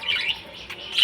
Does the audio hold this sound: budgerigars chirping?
yes